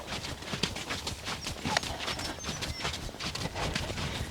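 A mare's hooves strike ground at a steady trot while being ridden, a rhythmic run of close, fairly loud beats with a soft snort or two mixed in.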